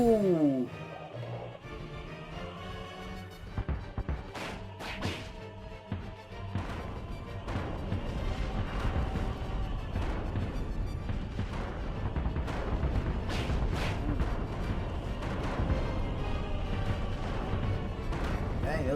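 Cannons fire in an animated Bowser versus Eggman death battle, a rapid series of sharp booming blasts over dense music and effects, starting faint and then loud and steady.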